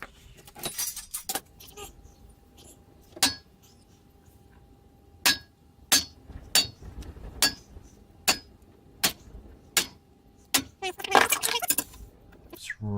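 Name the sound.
centre punch struck with hammer to mark metal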